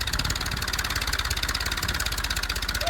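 Tractor engine running while hauling a trolley fully loaded with heavy manure, a loud close rhythmic diesel chug at steady pace throughout, no voices.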